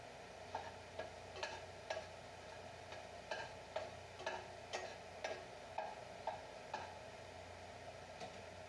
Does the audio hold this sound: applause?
no